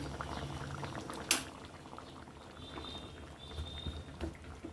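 Muri ghonto with a katla fish head simmering in a pot, a soft steady bubbling close by, with one sharp clink near the start and a faint whine in the background.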